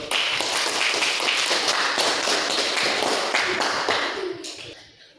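Classroom applause from a group of students, a brisk patter of many hands clapping steadily before thinning and fading out near the end.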